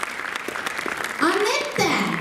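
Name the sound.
audience applause at a dance show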